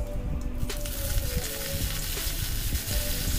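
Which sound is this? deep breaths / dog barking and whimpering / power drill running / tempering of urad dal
tempering of urad dal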